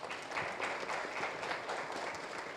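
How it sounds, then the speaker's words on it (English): Audience at a digital transformation forum giving a round of applause, a short burst of steady clapping from a crowd. "I'm just going to ask the audience to give a round of applause to"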